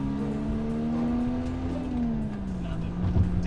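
A Mazda RX-7 with twin turbos accelerates hard, its engine droning loudly and climbing in pitch before easing off and dropping lower, heard from inside the car, with some brief voices over it.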